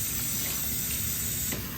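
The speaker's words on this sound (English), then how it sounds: "I spray it with super hot water too." Hot water sprays with a steady hiss onto muddy baseball knickers, a continuous close broadband spray that holds evenly for the whole stretch without pauses.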